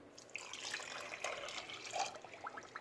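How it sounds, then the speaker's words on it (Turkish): Water splashes and trickles into a pot in a steady, fairly quiet stream, with small drips and clinks. "Üzerine 3 su bardağı su ekliyorum"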